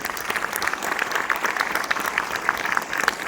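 Steady applause from a cinema audience at a preview screening, a dense wash of many hands clapping at even loudness throughout, with no voices standing out.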